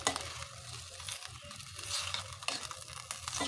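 Chopped napa cabbage is stirred in a pot with soft scraping and sizzling, a few clinks of the utensil against the pan, fairly quiet.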